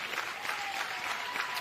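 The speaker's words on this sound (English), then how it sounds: "Home crowd urging on Lily Walker and the Bears." A home crowd at a Baylor Bears college softball game against BYU cheers and applauds steadily, a dense, continuous roar from the stands.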